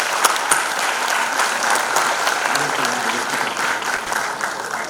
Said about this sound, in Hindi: जोरदार तालियां for Rakesh bhai